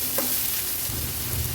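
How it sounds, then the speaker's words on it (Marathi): Chopped large onion frying in a pan gives a soft, steady sizzle, with faint stirring scrapes near the start, heard alone without talk. "हा मोठ्या साईजचा कांदा जो आपण चिरून घेतला आहे तो ऍड केला आहे"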